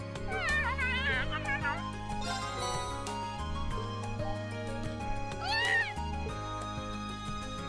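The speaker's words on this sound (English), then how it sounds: "I just happened to find this cat here" Several short, high meows from a cat in the video game Trails of Cold Steel, in two bursts over steady background music.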